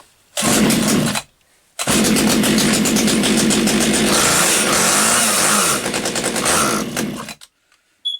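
An Echo CS 3400 chainsaw engine runs loudly with the choke off, a rough, buzzing two-stroke roar that cuts out briefly near the start, restarts, and runs steadily for several seconds before stopping abruptly.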